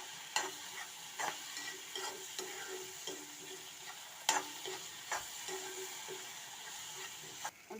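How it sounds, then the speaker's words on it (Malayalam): A spoon stirring tomatoes frying in a pan, with soft scrapes and occasional sharp clinks against the pan over a faint continuous sizzle, quiet and close. "തക്കാളി ഇട്ട് നമുക്ക് തക്കാളിയും കൂടി ഒന്ന് ഇളക്കി കൊടുക്കണം അല്ലേ."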